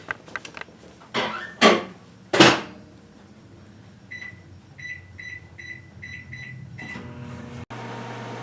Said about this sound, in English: I'm going to put this in the microwave for 12 minutes uncovered